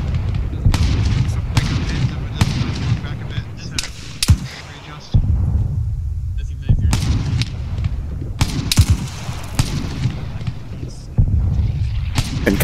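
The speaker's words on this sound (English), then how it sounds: "Artillery firing east southeast." Artillery in Arma 3 booms again and again in heavy, irregular blasts, loud and close, with a short lull partway through.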